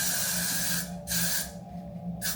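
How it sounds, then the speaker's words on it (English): Three bursts of hissing aerosol spray on a wig, close by, the first long, then a shorter one and a brief final puff, with quiet gaps between. "We're gonna spray this as well."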